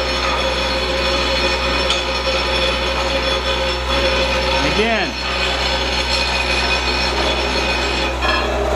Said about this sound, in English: You can hear that unit getting faster and faster.